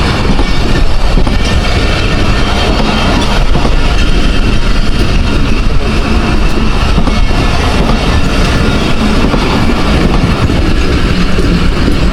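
The 14 Down Awam Express rolling through Taxila Cantt junction railway station, a loud close continuous roar of coaches and wheels with rhythmic clatter throughout, and no voices.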